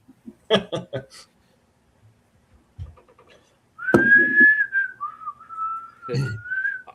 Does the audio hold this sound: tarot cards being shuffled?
no